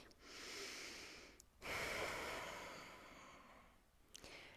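Quiet, close breaths during a beginner yoga stretch, two slow airy exhalations separated by brief pauses, soft and intimate with no talking.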